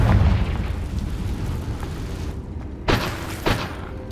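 A Confringo spell blast in the video game Hogwarts Legacy: a booming explosion rumbles at first, then two sharp bursts follow a moment apart, loud and close, amid game effects without speech.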